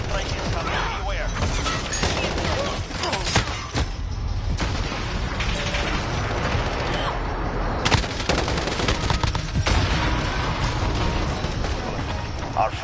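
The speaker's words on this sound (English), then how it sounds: "Airstrike incoming." Sustained automatic gunfire and explosion booms from an airstrike rattle on without pause in Call of Duty: Modern Warfare, loud and dense, with voices talking over the battle.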